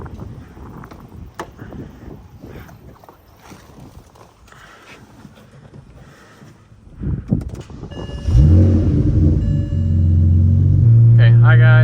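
BMW 335i with a big single turbo, anti-lag and a manual gearbox, engine note rising loud and steady in the last few seconds after quieter rumbling and handling noises.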